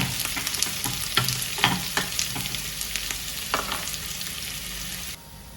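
Hot oil sizzles steadily while green chillies and shallots fry, with intermittent scraping stir strokes and clinks in the pan; no talking.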